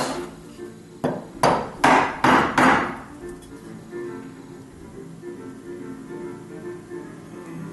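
A chisel driven by a mallet cleaning up mortises in walnut for a rustic trestle table, with five sharp, close wooden strikes in quick succession, followed by quieter scraping and paring.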